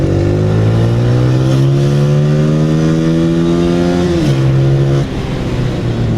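A Honda 125 motorcycle engine revs hard under throttle, a loud, close, steady buzzing drone that climbs in pitch and then drops twice in quick steps near the end.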